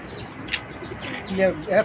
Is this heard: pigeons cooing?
yes